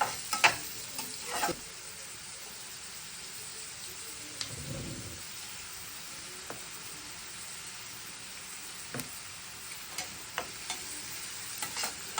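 Onions sizzle quietly in oil in a pan for a shrimp bhuna, with occasional scraping stirs and clinks of a spoon against the pan over a soft, continuous frying hiss.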